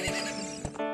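A horse from the video game Zelda Master Quest 3D gives a short, close, high whinnying neigh that rises and falls in one quick burst, heard alone.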